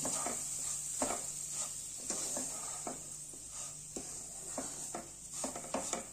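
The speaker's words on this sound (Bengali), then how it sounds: "সুজিটা দিয়ে ভালো করে মিশিয়ে নেব আর একটু কিছুক্ষণ ভেজেও নেব।" Semolina being stirred and fried in hot vegetable oil for upma over a low flame, giving a soft continuous sizzle with repeated scraping strokes of a spoon against the pan at a steady rhythm, fairly quiet and close.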